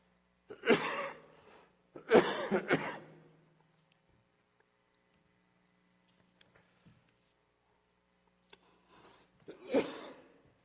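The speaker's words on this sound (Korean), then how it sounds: "몇 년 전부터 기침을 자꾸 이렇게 해요." A man coughs during a Wednesday church service sermon, with two or three rough coughing bursts close together, then near silence and one more faint cough.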